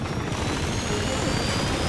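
A helicopter hovers nearby in Uncharted 2: Among Thieves, giving off a steady, dense rotor and engine roar that fills the whole moment without letting up.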